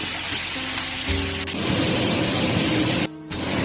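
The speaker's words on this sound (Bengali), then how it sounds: "এটাকে একটু নাড়িয়ে মিক্স করে ফ্রাই করে নেব একটু হাই হিটেই" Chopped squash fries over high heat, giving a steady, loud broadband sizzle with a brief dip near the end as it's stirred or covered; no voices.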